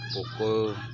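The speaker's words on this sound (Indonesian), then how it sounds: "Ini suara kokokan ayam juga masih terdengar ya." A rooster crowing on a bright, cool morning around six, one near, drawn-out call over a low steady hum, with someone speaking briefly alongside.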